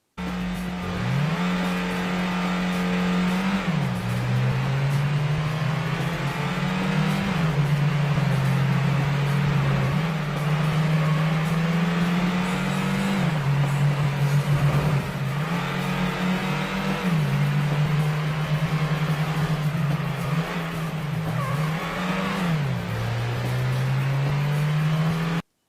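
Stock car engines roar in the Ford Racing video game, revving continuously for about 25 seconds as they climb through the gears with repeated shift drops. The engine note is loud and steady, and no one speaks.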